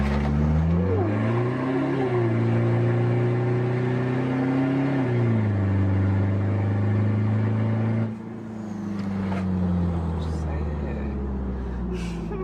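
A rear-wheel-drive Toyota Innova diesel drag car on Advan Neova soft-compound tyres launches with rear wheelspin. The engine roars loud and close, climbing in pitch in stepped surges, then eases off and builds again, with voices underneath.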